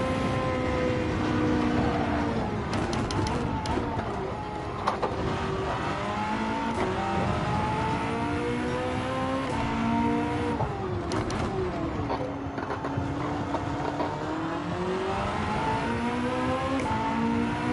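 Peugeot race car engine in the Gran Turismo 7 racing game, holding a steady high whine with repeated rising and falling revs through gear changes, continuous and prominent throughout.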